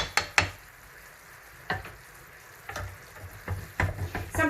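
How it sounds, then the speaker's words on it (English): Syrup being stirred in a sizzling pan while cooking toad in the hole: a soft steady fizz under scattered scraping and clinking of a utensil against the pan, close and fairly quiet. "Cody's giving it a nice little stir"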